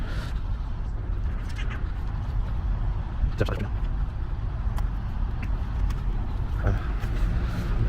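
A car pulls out of a car park at low volume, a soft engine hum with scattered clicks and light thumps over a murky outdoor background.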